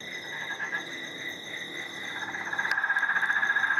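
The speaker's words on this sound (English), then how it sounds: "hopefully we can record some frogs" Peron's tree frogs calling at night among backyard trees, a high, steady trilling that turns into a fast, rhythmic pulsing chorus toward the end, fairly close and without any voices.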